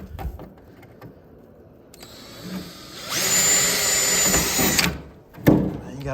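A power drill runs close and loud into a go-kart frame for roughly two seconds, winding down with a short clunk of tool handling afterward amid light workshop noise.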